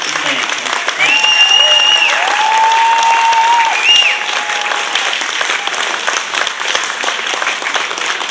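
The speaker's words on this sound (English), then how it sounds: "One more huge round of applause for the 2016 Pride of Pocahontas Superior Rating Marching Band." A loud, dense crowd applauds a high school marching band at a spring concert, with steady clapping and a few whistles that carry on throughout.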